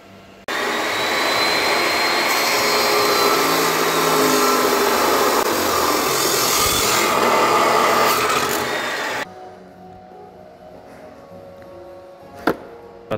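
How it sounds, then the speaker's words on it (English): A tube notcher cuts into a steel tube for a Nissan Frontier rear bumper, a loud, steady grinding whine for about nine seconds that stops abruptly, followed by quiet shop ambience and a single sharp clank. "So I'm just gonna notch both sides on this tube."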